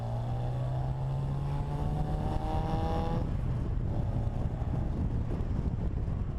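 A powerful race engine in a Bugeye Sprite street racer revs above 3,000 RPM, its tone climbing steadily before easing off into a rough, wind-buffeted rumble.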